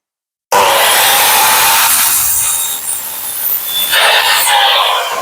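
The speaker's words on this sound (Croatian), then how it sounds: "rezanje na preklopnoj pili" A miter saw cuts through wood while walls of a small house are built, a loud close grinding rasp starting abruptly and running continuously, easing slightly midway before surging again.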